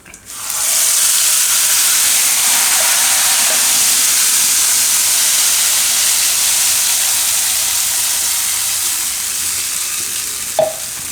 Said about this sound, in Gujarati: હવે આપણે ગ્રેવી એમાં નાખી દઈશું બધી